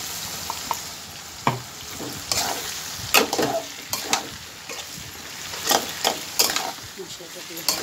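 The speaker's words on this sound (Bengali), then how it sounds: "মশলাটা দিয়ে এবার কষিয়ে নিই" Spice paste of yogurt, chilli powder and Kashmiri chilli powder frying for prawn curry, a steady sizzle broken by repeated close scrapes and knocks of a spoon against the pan.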